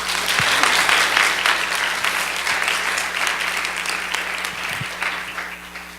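An audience claps at a church gathering, steady sustained applause filling the room at full strength and thinning slightly toward the end, with a few sharp claps standing out.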